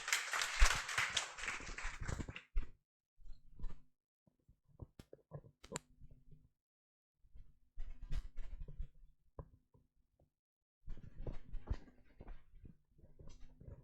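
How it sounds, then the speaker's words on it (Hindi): An audience at a Teacher's Day function in a coaching class applauds to welcome a teacher, with a short burst of clapping up front followed by sparse, scattered claps in a fairly quiet room. "तो सर का जोरदार तालियों के साथ स्वागत करिए।"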